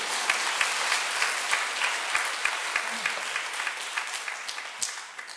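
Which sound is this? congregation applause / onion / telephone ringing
congregation applause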